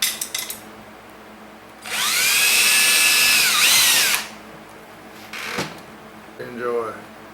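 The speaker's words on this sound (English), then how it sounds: "Gonna drill a hole in the third" A power drill whirs loudly for about two seconds, its pitch rising then holding steady before stopping, followed by brief clicks and handling noises.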